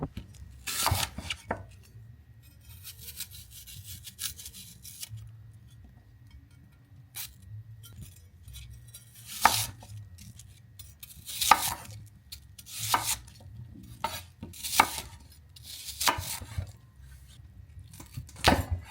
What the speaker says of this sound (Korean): 사과는 깍둑 썰기로 썰어주시면 되는데요